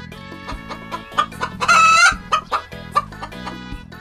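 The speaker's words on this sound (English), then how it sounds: "Hen." A hen clucks in short, repeated bursts and gives one longer, louder squawk partway through, all heard close over soft background music.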